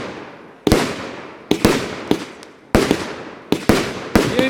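A rapid series of sharp bangs from a fireworks battery, about seven loud explosive cracks in uneven bursts, each followed by a brief crackling decay.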